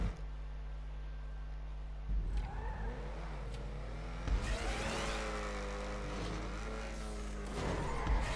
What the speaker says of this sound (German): Muss ich wieder Gas geben